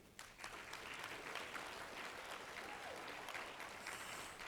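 Audience applause at a university conference session in Monroe, Louisiana, a steady, dense clapping from a sizeable crowd that holds even and fairly loud for the whole stretch.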